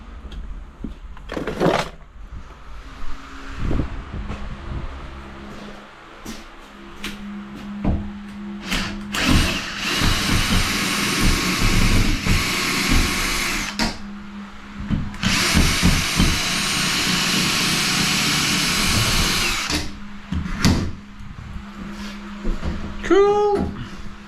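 A cordless drill bores into a wall, with several short whirring bursts and a few longer sustained drilling runs, close and loud amid clunks and handling noise.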